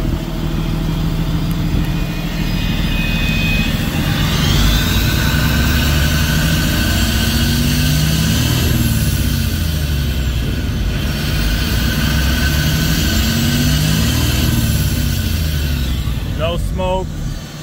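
A 2011 Freightliner M2 Business Class bucket truck with an Altec 60-foot boom idles with its exhaust running, a loud, steady low rumble that holds evenly throughout, with a brief rattle near the end.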